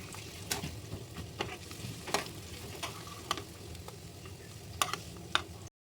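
Round slices fry in hot ghee until browning, a steady close sizzle and crackle with occasional sharp clicks and scrapes from stirring.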